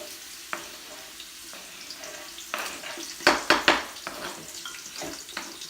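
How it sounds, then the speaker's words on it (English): Onions hit hot grease in a pot on a barbecue pit, giving a close, crackling sizzle that flares into several loud bursts midway before settling back to a softer fry. "I have some grease that's hot, and we're getting ready to saute these onions"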